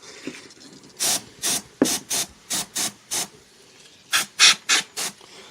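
A cold aerosol can hisses in a series of short, sharp bursts, about a dozen sprays in uneven rhythm, close and fairly quiet between them.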